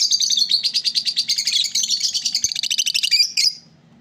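Lovebirds inside a nest box chirp continuously in a fast, loud, close stream of high tweets that ends abruptly, with a faint low hum underneath.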